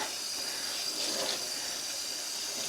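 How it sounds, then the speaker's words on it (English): Cold tap water runs from a faucet while hand-dyed sock yarn is rinsed, a steady hissing splash at moderate volume with a brief swell near the middle, no voices. "Let's just rinse this through. This is just cold tap water."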